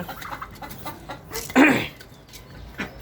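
Chickens cluck and squawk close by as grain feed is given, with one louder burst of flustered fowl calls in the middle and softer clucks scattered around it.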